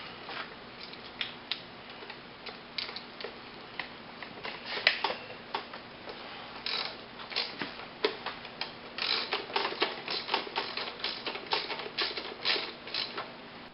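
A ratchet wrench with a 10 mm socket clicks on a Predator 212 mini bike engine, giving sparse ticks at first that build into quicker, busier ratcheting close to the microphone.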